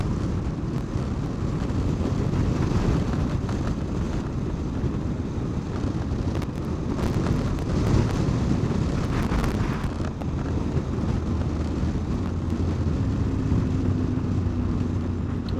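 Wind roars and buffets steadily against a car on a winding Lake District road. The low rumble stays loud and unbroken throughout, with no talking.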